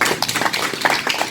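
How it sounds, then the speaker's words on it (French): A workshop audience applauds a boy, a dense patter of many hands clapping steadily throughout at moderate loudness, with no one speaking. "Faut l'applaudir, ce garçon."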